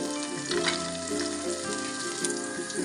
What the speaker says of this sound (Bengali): এরপর এর মধ্যে বাদামগুলো দিয়ে দিচ্ছি, তাহলে ভাজা ভাজা হবে।